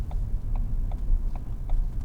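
A car's turn signal clicks steadily, evenly spaced about twice a second, over a low rumbling engine hum.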